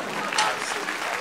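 A brief burst of crowd applause from a talk show, steady clapping and cheering that lasts only a moment.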